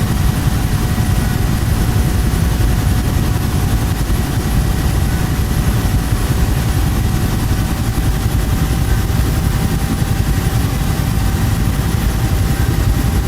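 Huey helicopter engine and rotor in the DCS flight simulator, hovering on a runway: a loud, continuous droning whine with a dense low rumble and steady pulsing, heard alone without talk.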